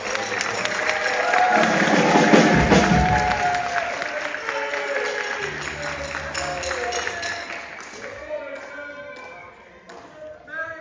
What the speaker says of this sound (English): Let's give a round of applause for Mason because he is changing instruments all over the place.